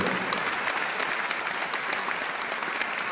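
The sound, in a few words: congregation applause in church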